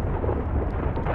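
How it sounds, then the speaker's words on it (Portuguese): Low, continuous rumble of thunder in the GTA RP video game, a dense rolling roar that fills the whole short stretch at steady strength with no talk over it. "Pressão minha ou tá trovejando?"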